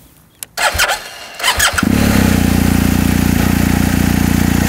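A BMW R1250 GSA motorcycle's boxer twin engine cranks with a few starter bursts, then catches and settles into a loud, steady, throbbing idle close by.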